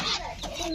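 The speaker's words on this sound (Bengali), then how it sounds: "মুরগির বাচ্চারা কিন্তু আগে আইসে আইবে" Chicks and hens clucking close by at a rural home, a short burst of soft, overlapping clucks and peeps with some faint background noise.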